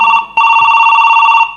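A mobile phone rings loudly and close, a steady electronic ringtone that breaks off once briefly and then holds before cutting out, at a Chhattisgarhi nacha party performance in Sarabong, Odisha.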